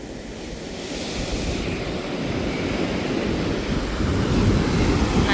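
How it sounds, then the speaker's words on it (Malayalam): Ocean waves wash steadily onto a beach, a broad continuous roar of surf that builds slightly, with wind buffeting the microphone and no voices. "നല്ല തിരമാലുണ്ട് കേട്ടോ ഗായ്സ്."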